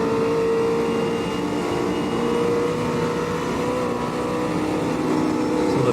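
Racing cars, including a McLaren 720S GT3, running flat out at the Nordschleife in Automobilista 2: a steady, loud, sustained engine drone with high harmonic whine and no breaks.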